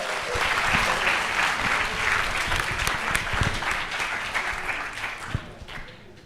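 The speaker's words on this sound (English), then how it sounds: "So give a round of applause for Ritika and Joel," A crowd at the USAPPS 2024 event claps for Ritika and Joel, full, sustained applause that thins out toward the end.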